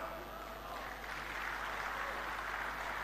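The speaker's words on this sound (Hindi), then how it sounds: "आपने ताली बजा दी" A crowd at a poetry recital applauds in a steady, dense wash of clapping that runs throughout, fairly loud and close.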